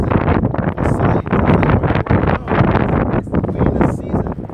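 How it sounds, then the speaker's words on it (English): Winter wind blows hard outdoors at a camp among bare trees, gusting roughly across the microphone in a loud continuous buffeting roar. "You know, it's windy."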